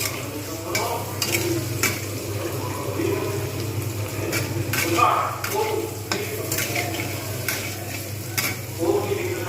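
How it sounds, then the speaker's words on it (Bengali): Potatoes frying and being stirred in a pan while cooking chhanar dalna, a steady close sizzle with repeated scraping stir strokes throughout, alone without talk. "যেহেতু আলুটা ভাজা হচ্ছে"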